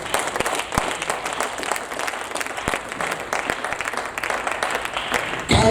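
Church congregation applauding and cheering during a sermon, steady crowd clapping with mixed voices calling out throughout, ending abruptly.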